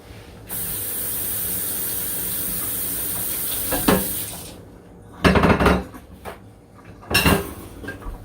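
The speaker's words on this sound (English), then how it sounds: "now I gotta get this plate clean" A plate washed under a kitchen tap: a steady rush of running water for several seconds, then dish clatter and two short bursts of spray, close and moderately loud, no voices.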